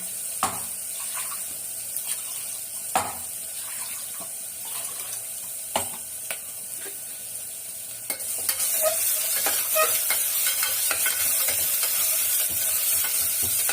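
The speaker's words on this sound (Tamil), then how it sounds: "தீயாத வதக்கணும்." Country onions and masala sautéing in a pan for chicken biryani: a steady sizzle under repeated sharp spatula taps and scrapes, growing denser and louder in the second half.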